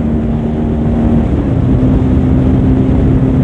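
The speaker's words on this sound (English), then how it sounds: "This is my bike. I go on 120 like in seconds." A Bajaj Pulsar N250 motorcycle rides fast on an expressway, giving a loud, unbroken engine drone with a steady humming tone, mixed with rushing wind noise close up.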